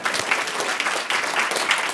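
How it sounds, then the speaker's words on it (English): A crowd at a talk on dyslexia breaks into a loud round of applause, many hands clapping in a thick, steady burst close by, with no speech over it. "let's just give Walter Duncan a round of applause on my behalf"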